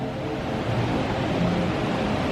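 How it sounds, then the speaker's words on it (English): Steady, broadband rushing of artificial waterfalls on the grounds of the JW Marriott Las Vegas, an even, unbroken wash of falling water that holds at a constant moderate level throughout. "Actual waterfalls."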